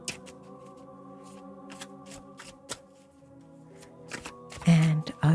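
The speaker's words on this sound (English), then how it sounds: "Okay, I am going to shuffle now." A deck of cards is shuffled up close in quick riffling bursts, with soft handling sounds between, ending in a louder flurry of cards.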